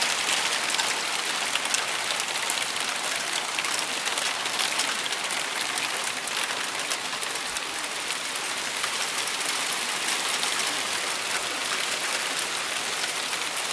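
Hail falling outside in large chunks, a dense continuous patter and hiss on surfaces that stays even and steady throughout, without voices.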